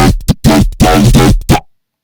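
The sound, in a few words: dry neurofunk bass sound without post-processing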